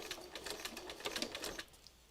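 A sewing machine zigzag-stitches over a lace edge around a fabric heart, with a quick, faint, rhythmic patter of needle strokes that tapers off near the end.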